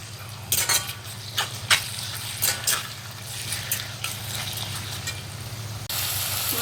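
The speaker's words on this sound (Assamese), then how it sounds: "মাংসখিনি দিছোঁ। এতিয়া অলপ ভালদৰে লৰাই লৈছোঁ।" Mutton being stirred into browned fried onions in a cooking pot for an Assamese-style curry, with several scraping, clattering strokes of a spoon against the metal over a low steady sizzle, fairly close, without talk.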